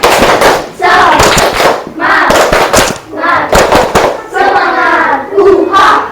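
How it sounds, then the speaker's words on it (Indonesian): A classroom group performs a rhythmic spirit clap, several bursts of loud, close hand claps in quick patterned runs, with voices and chanting mixed in between. "Sudah ya? Tepuk semangat."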